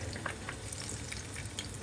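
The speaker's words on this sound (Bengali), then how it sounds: "আলুর চপ ভেজে নেই।" Minced-meat potato chops sizzle steadily in hot oil, a dense continuous crackle with scattered louder pops, close and alone with no talk.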